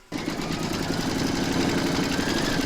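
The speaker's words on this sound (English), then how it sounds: "Pop your hoop back into your machine and stitch round number 3 to secure it." An embroidery machine stitches an in-the-hoop appliqué round, its needle hammering in a fast, even mechanical rhythm that starts abruptly and runs loud and steady throughout.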